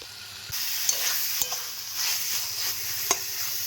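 Mashed banana stem (thor bata) is stirred in a hot pan over a high gas flame, a soft sizzle with a few spatula scrapes and taps, close and steady over a brief stretch.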